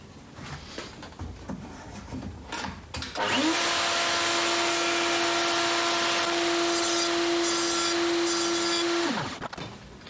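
A loud router jointer whines steadily for several seconds at a constant pitch, cutting sapele wood, then spins down; quieter workshop noise comes before.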